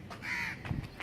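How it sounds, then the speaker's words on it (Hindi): A crow caws outdoors in the distance, a couple of short harsh calls standing alone against quiet background noise. "अभी कोई दूर से एक कौवा"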